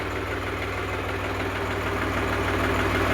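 A farm tractor with a double clutch system idling nearby, a steady low throb with an even mechanical pulse, no talk.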